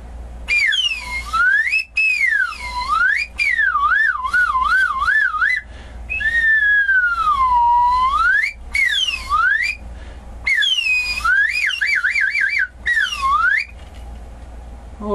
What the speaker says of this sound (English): It's my slide whistle.